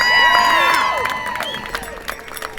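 A crowd at a charity football game cheers and whistles loudly, the roar swelling at first and then tapering off into scattered shouts and claps.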